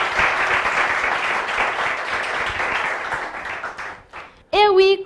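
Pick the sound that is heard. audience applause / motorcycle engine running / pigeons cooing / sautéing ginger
audience applause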